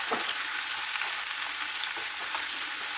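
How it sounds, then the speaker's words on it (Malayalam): Steady loud sizzling of chopped onions sautéing in hot oil, with faint scraping stirs now and then, close up and no voices. "അരിഞ്ഞ് വെച്ചിരുന്ന സവാള അതിലേക്കിട്ട് നല്ലതുപോലെ ഒന്ന് വഴറ്റിയെടുക്കാം"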